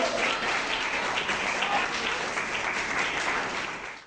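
Sustained applause from an audience honouring a guest at a school admission festival for children with intellectual disabilities, a steady dense clapping that holds for about four seconds before tapering off at the end.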